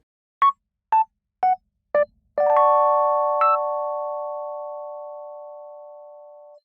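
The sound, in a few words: software Rhodes electric piano, straight from software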